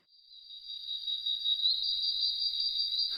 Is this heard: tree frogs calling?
yes